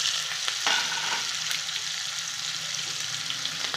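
Cumin, mustard seeds, garlic and crushed green chili hit hot oil in a kadhai, giving a steady loud sizzle and crackle with faint stirring throughout, no talking.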